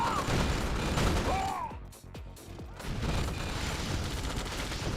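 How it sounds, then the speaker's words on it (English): A sentry gun in Command & Conquer Red Alert fires amid battle noise, with rapid repeated shots, a few heavier thumps and sweeping tones layered under a busy, continuous din. "Sentry gun to ward away the GIs."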